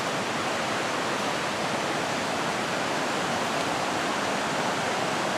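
Water at Intestate Falls pours down a small stepped waterfall and through rapids, making a steady, dense, full-range roar that stays constant and close throughout with no voices.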